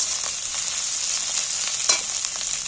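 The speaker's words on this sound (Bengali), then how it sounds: "সেটাকেও আমি একটু তেলের মধ্যে ভেজে নিচ্ছি" Ginger and garlic fry in oil with a steady, even sizzle throughout, close and moderately loud, with a few faint crackles and one brief louder pop near the end.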